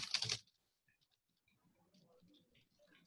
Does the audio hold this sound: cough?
no